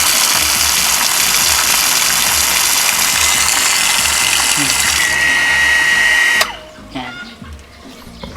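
An INGCO 0.5 HP electric water pump motor runs with a loud, steady whine and broadband hum, then cuts off abruptly about two-thirds through, leaving a fading tail and a brief voice.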